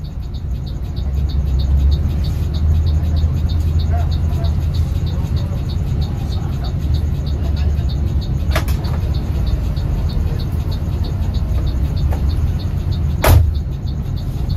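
Sumber Jaya intercity bus on the Palembang to Banjar route, heard from inside the cabin while driving: a steady low engine and road rumble continues throughout, with occasional faint clicks and rattles and a brief sharp knock near the end.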